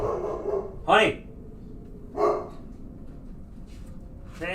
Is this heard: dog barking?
yes